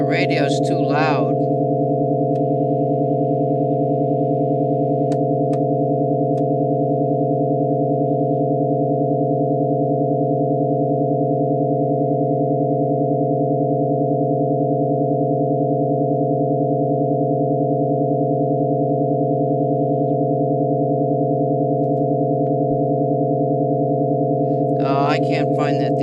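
Steady layered radio tones hum continuously while someone searches for a signal, with short bursts of voice near the start and end and faint high chirps in between.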